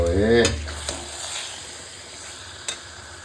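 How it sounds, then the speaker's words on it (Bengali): Curry with sour curd being sautéed in a pan gives a soft, fading sizzle and hiss, with a short voiced sound at the start and a sharp clink near the end. "এবার ভালো করে একটু কষাবো"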